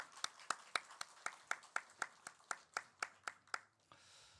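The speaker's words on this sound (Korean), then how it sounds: "아름다운 찬송 우리 목자 성가대 다시 한번 축복의 박수 하시겠습니다." A church congregation claps for the choir during a Sunday worship service. About fourteen sharp claps fall in an even, regular rhythm, fairly faint, and then stop, leaving quiet room tone.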